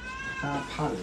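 A blue-gold cat gives a couple of quick, close meows indoors. Each is short and tonal, and a person is talking over them throughout.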